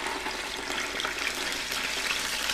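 Ginger garlic paste hits hot oil alongside browned onions, giving a steady, close broadband sizzle that keeps an even loudness throughout with no pauses.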